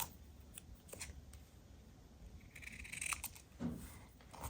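Scissors trim a paper cutout in a few crisp snips close by, mostly bunched near the end, against a quiet background with no speech.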